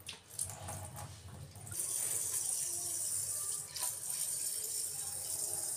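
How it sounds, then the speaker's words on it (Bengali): Tap water runs steadily while rice is rinsed for cooking, a continuous broad splashing gush that grows louder after the first couple of seconds and stays close and even, with no one talking. "আর এখন চালটা ধুয়ে নিই, ভাতটা বসাবো।"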